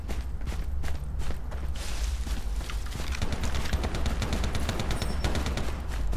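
Non-player gunfire in the video game Lost Light: dense bursts of rapid shots crackle steadily through the clip, loud and continuous with no talk over it.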